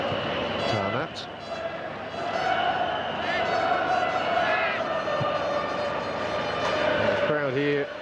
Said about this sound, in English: The crowd here enjoyed a little cameo from Maradona